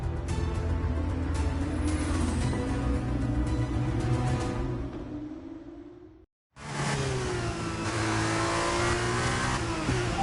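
A race car in a racing video game pulls away on fresh tyres, its engine revving hard and steady and loud, with rising whine and a brief cut of silence before the roar resumes.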